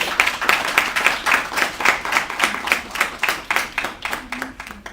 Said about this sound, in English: I think you deserve yourself a round of applause.